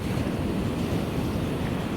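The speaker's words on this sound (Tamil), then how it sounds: "அப்படியே கடலை பாருங்க இவ்வளோ அடிக்குதுன்னு" Storm-driven sea surf pounding the shore along a damaged coastline, a constant loud wash of breaking waves with heavy wind buffeting the microphone throughout.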